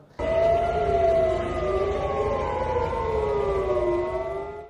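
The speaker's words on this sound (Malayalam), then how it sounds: "തലസ്ഥാനമായ തെല്ലവിവിൽ മുന്നറിയിപ്പ് സൈറൺ മുഴങ്ങി" A wailing civil defense warning siren in Tel Aviv, sounding after a missile attack from Yemen, rises and falls in long sweeping tones, loud and sustained throughout, with no voices heard.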